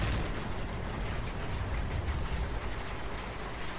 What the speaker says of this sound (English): there's probably a tank or something firing at me